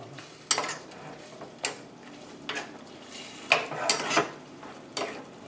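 A spoon stirring merguez tomato cream sauce in a pan, quiet background sizzle under a series of distinct scraping strokes and light metallic clinks spaced about a second apart.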